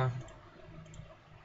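Sharp mouse clicks in CAD software while a connecting rod assembly is put together, a few quiet, isolated taps over a low background hum.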